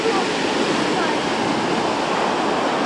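Ocean surf rolling along a shoreline, heard as a steady, loud broadband wash of breaking waves with wind noise and no pauses, close to the microphone.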